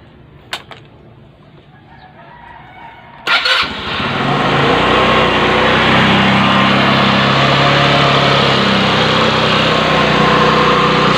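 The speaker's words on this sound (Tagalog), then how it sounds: "start nyo na yung motor." A carburetted motorcycle engine cranks and catches after a few clicks, then settles into a loud, steady idle that continues to the end.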